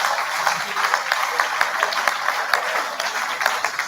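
An audience claps for a lecturer after a university leadership lecture, a steady, dense round of applause that holds at an even level without pause.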